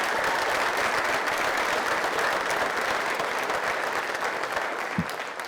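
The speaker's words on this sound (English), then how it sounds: "Let's give one final round of applause for the Air Force" Steady, dense applause from a crowd at a 2023 military recognition ceremony honouring Air Force recruits, continuous clapping at moderate distance that thins slightly near the end.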